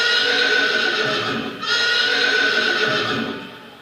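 A horse whinnies loudly and close by in two long neighs, with faint hoofbeats beneath and a short dip between the calls; no one speaks.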